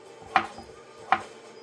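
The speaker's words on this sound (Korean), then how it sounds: "저는 얇게 썰어서 볶아 보겠습니다." A knife cuts Korean zucchini (aehobak) on a cutting board in two crisp, separate strokes about three-quarters of a second apart. The chops are close and clear over a quiet kitchen background.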